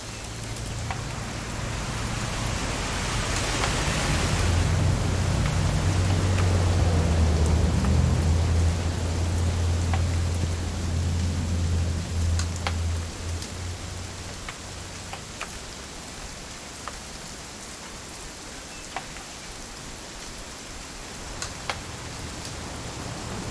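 Steady video game rain from What Remains of Edith Finch hisses continuously, with a low rumble early on and scattered sharp drips and taps toward the end.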